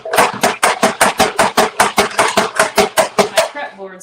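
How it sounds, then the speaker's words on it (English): A knife slicing an onion on a wet prep board, about fifteen quick, even, sharp chops in a steady rhythm, close and loud, ending with a brief softer settling sound. "Let's cut up this onion."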